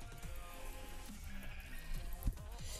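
Sheep in the Minecraft video game bleat in short repeated calls, fairly close and moderately loud, with no talking over them.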